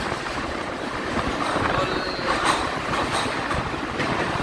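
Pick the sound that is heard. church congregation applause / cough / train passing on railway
train passing on railway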